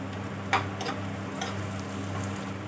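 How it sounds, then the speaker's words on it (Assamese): Onions with a little turmeric sizzle and crackle steadily in a hot pan, with a low background hum and a few sharp clicks from stirring. "এয়া চাওক, পিঁয়াজখিনি ভালকৈ ভজা হৈ গ'ল।"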